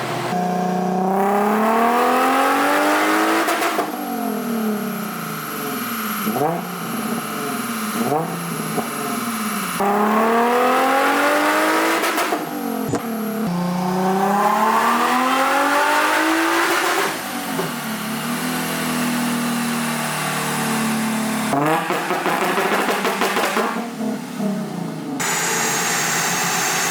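An HKS-supercharged Nissan 350Z with a VQ35DE V6 revving repeatedly, pitch sweeping up and falling back in long pulls with supercharger whine on top, loud and close throughout.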